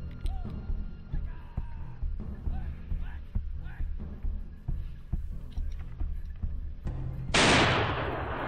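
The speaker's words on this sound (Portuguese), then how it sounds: "Segundo disparo baixo." During a wild boar hunt, dogs bark and yelp for several seconds before one loud, close gunshot bursts out near the end and rings away into a decaying echo.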